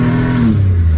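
A 1996 Chevy S10 engine revs through a Cherry Bomb glasspack muffler, giving a loud, steady low rumble that rises and then eases back into a deep idle drone across one second.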